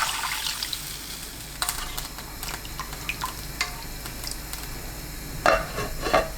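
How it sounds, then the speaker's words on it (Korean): Water pours into a pot of potatoes just sautéed for a tuna gochujang stew, a close sloshing stream with splashes, clinks and bubbling that swell and fade over several seconds. "물 500ml 붓고 끓입니다."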